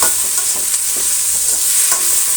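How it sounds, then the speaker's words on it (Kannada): Tomatoes fry and crackle in a hot pan while being stirred, a steady loud sizzle with soft scraping strokes throughout and no talking. "ಈ 3 ಟೊಮೆಟೊ ಕೂಡ ಚೆನ್ನಾಗಿ ಫ್ರೈ ಆಗಬೇಕಾಗತ್ತೆ."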